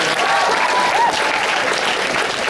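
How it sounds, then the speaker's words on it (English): An audience at an anime convention voice actor panel breaks into sustained applause, a dense clapping crowd filling the room throughout, with a few faint cheers or whistles over it. "So another round of applause for him putting up with us."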